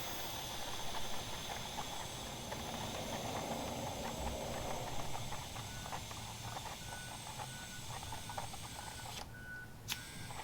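Air hisses steadily from a compressor hose as a 1917 Ford Model T tire is inflated. The hiss is continuous and close, with brief clicks and a sharp cutoff near the end.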